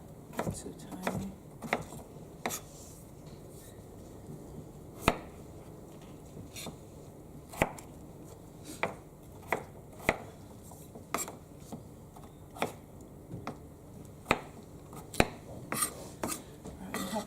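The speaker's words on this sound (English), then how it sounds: "while I'm cutting my other potato" A knife chops potatoes into chunks on a board for chicken soup, giving sharp, irregular thuds close by, some spaced and some in quick pairs, with faint kitchen background and no speech.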